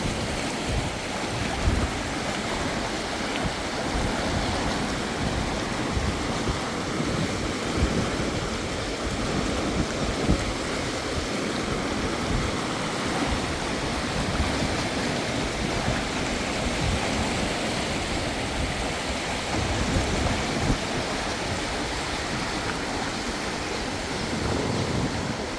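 Creek water at the Fall Creek day use area flows in a steady, loud, unbroken rush from start to finish, with no voices over it.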